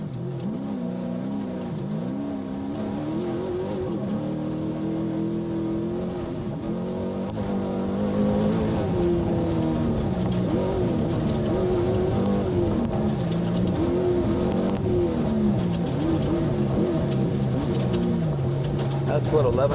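A 1,100 horsepower Baja race truck at the SCORE Baja 500 roars continuously, its engine note swelling and shifting pitch in steady waves, loud and sustained for the whole stretch.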